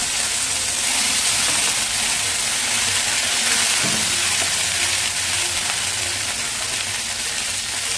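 Brinjal (eggplant) sizzling as it fries and is stirred in a pan, a steady loud hiss with a brief clatter of stirring partway through, no voices over it.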